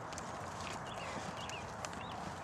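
Faint clip-clopping hooves of a fully tacked horse with bridle, saddle and saddle pad walking, an irregular light beat under steady outdoor background noise with birdsong.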